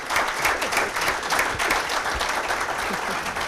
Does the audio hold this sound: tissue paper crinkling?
no